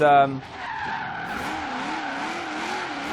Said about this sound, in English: And once the wheels grip and stop spinning, it's actually pretty fast, man.